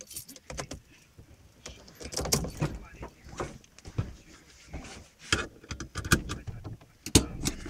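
A locksmith works at a Chevrolet Celta's door and lock, producing scattered metallic clicks, scrapes and key-like jangles in irregular bursts at close range, with a few sharper taps standing out.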